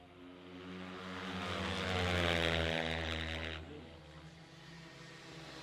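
Ice racing motorcycles speeding around a big ice oval at a live season-opener race, a loud engine roar building to a peak and then fading as the bikes pass.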